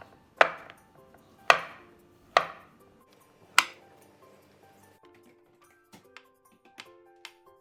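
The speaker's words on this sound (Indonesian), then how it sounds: "Tempenya dipotong-potong seperti biasa, kita bikin tempe orek." A sharp knife chops tempeh on a board with four crisp, separate cuts spaced about a second apart, then a few lighter ticks and taps.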